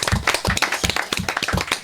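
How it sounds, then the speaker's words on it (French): An audience gives loud, close applause at a public event honouring a Caribbean caterer, with quick, overlapping hand claps in a lively and somewhat rhythmic burst. "Je vous demande un tonnerre d'applaudissements."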